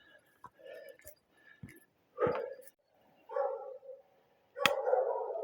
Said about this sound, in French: Ça a l'air d'être plutôt des chiens qui gardent quelque chose